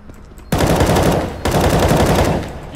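Gunfire in the video game CS:GO: two loud bursts of rapid shots, the first starting about half a second in and the second near the middle, dense and close with no talking.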